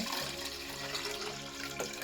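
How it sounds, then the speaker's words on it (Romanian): Running water rinses out a cylindrical aquarium prefilter in a steady, continuous splashing stream that lasts throughout, close and moderately loud, with no talking. "Clătim bine cilindru și ne asigurăm că nu este vreun crevete lipit pe pereți."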